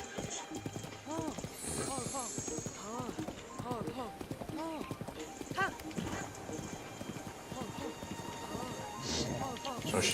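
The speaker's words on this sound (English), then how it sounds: "So she's now developing a gallop, but she still wildly goes off from side to side" Horse galloping in Zelda Breath of the Wild, rhythmic clip-clop hoofbeats pounding steadily and close over soft ambient noise, with someone talking over the hooves throughout.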